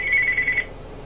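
A telephone rings once with a bright electronic trill, loud and close, then cuts off into quiet room tone.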